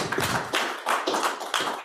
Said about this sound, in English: So first of all, a round of applause.